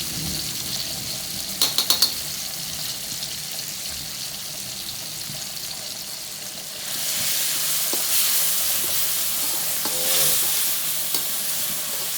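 Food being stir-fried in a pan for a Bidayuh home-cooked dish, a steady sizzle with scraping stirs and brief clinks, growing louder and hissier midway with water splashing, no talk.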